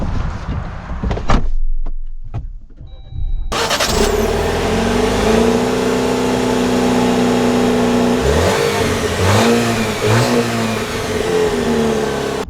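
A 2025 Jeep Wrangler 4-door starts up with a brief crank, then settles into a steady idle. Its engine revs rise and fall through several smooth pulls as it pulls away, loud and close, with no voices.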